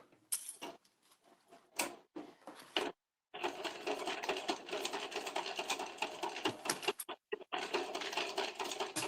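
Sewing machine stitching a tulip pattern piece, close rattling mechanical chatter that starts and stops in short bursts, then settles into a long continuous run with brief gaps near the end.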